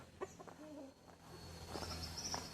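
A grey hen clucks softly at close range in a quiet farmyard, a few short low clucks followed by a higher, drawn-out call near the end.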